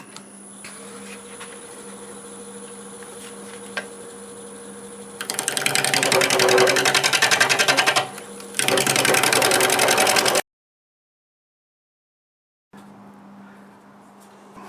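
A wood lathe hums steadily while a 5/8 bowl gouge turns an ash bowl, breaking into two loud buzzing cutting bursts. Then it drops into sudden silence before the motor hum returns.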